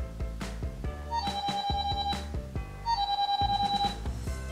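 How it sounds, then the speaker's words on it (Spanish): A toy alarm clock from a doll birthday play set rings in two loud bursts of bright, steady electronic beeping over a fast clattering pulse, with a brief pause between. "¿Ya has sonado el despertador?"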